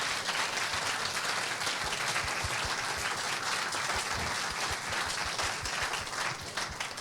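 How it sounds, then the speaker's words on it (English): Steady, dense applause from an audience at a Malaysian public forum or talk, sustained crowd clapping at an even level throughout with no talking over it. "Please, an applause for Tan Sri Ashad."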